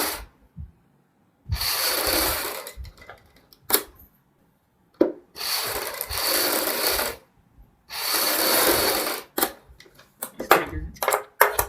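A sewing machine stitches buckram into a neck design for a boutique garment, running in three separate bursts of rapid whirring a few seconds long. Quiet gaps in between carry small clicks and handling sounds.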